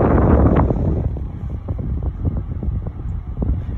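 A 1988 Holmes 12-inch table fan runs close to the microphone. It makes a steady, breathy whoosh of moving air with faint rattling flutters and no talking.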